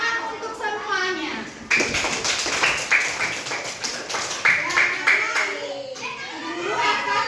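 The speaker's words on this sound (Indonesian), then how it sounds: "Tepuk tangan untuk semuanya." A fourth-grade classroom of children claps together in a dense, quick burst of hand claps lasting several seconds, mixed with excited kids' voices before and after.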